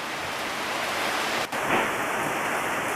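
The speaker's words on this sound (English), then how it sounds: "It's a steady rain. It's not like a straight downpour and it's not a sprinkle" Steady rain falls outside near a new workshop, a continuous even hiss of moderate rain with no breaks, heard close and alone.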